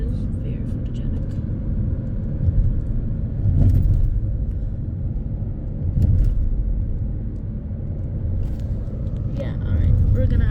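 A car engine idles and rumbles steadily near storm chasers photographing a mini supercell in Serbia, swelling in a few low surges while people talk over it.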